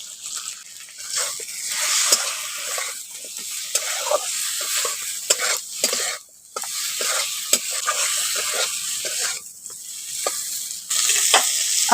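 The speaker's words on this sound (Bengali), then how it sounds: "এখন মশলা আলুগুলো ভালো করে কষে নিয়েছি" Potatoes coated in chilli powder and Kashmiri red chilli powder are stir-fried in a pan, producing a loud sizzle broken by frequent scraping stirs and short pauses.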